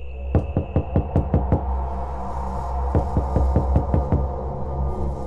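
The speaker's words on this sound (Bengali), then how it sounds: "দরজায় ধাক্কার শব্দ।" Knocking on a door: two rapid series of about eight sharp, evenly spaced knocks each, separated by a short pause, close and distinct over a low steady hum, with no talking.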